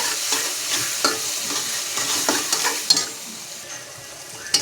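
Spices such as red chili powder, coriander powder and garam masala are stirred into eggplant and potatoes frying in oil in a pan, with a soft constant sizzle and repeated scraping strokes of the spoon at a close, moderate level.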